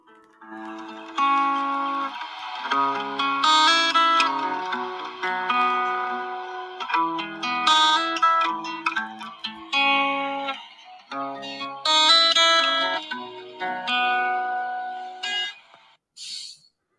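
A recorded guitar riff plays back from a phone, a clean, somewhat thin melodic line of picked notes and short phrases with brief gaps, fairly quiet and without talk over it.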